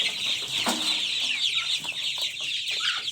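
Chickens cluck and rustle close by while eagerly gobbling homemade feed, with steady soft clucks and pecking sounds running throughout.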